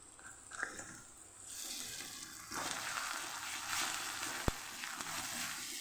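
Ginger, chili and garlic paste sautés with onions in a pan for Kathiyawadi dahi aloo curry, giving a soft, steady sizzle that rises and stays even, with a faint clink partway through.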